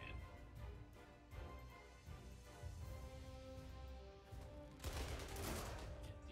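Artillery fire in the strategy game Panzer Corps II comes as a burst of rapid booming shots with a rolling rumble, then a louder blast near the end, with no talk.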